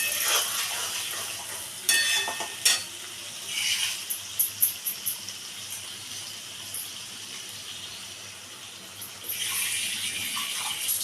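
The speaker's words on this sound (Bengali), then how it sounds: "মিক্সিটা ধুয়ে আমি জলটা দিয়ে দিলাম" Running water rinses out a mixer grinder jar in a kitchen while cooking jhinge aloo posto, a steady splashing stream with a few louder gushes and clinks, close and alone.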